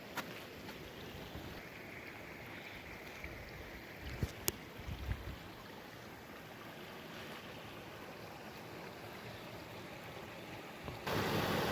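A waterfall rushes in a steady, distant roar of broadband noise in a forest, with a few brief knocks midway and a louder surge at the very end.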